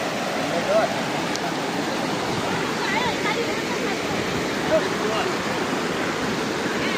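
Kanchenjunga waterfall in Sikkim roars as a steady, loud broadband rush of falling water throughout, with no breaks in the flow.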